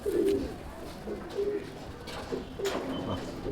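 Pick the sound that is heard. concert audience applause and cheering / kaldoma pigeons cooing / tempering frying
kaldoma pigeons cooing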